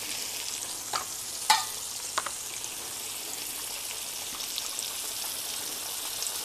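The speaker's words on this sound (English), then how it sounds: "this fish doesn't really take long at all to fry" Whiting fish fillets pan frying give a steady, close sizzle with faint crackles and a few small pops, heard alone with no talk.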